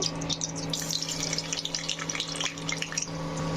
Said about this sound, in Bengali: রসুনটা খুব ভাজা ভাজা করে নিতে হবে প্রথমে।